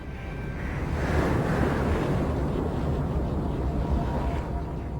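A boiling ocean sound effect: a dense, steady roar of churning, seething water with a rumbling low end. It holds at constant strength for about five seconds with no voices.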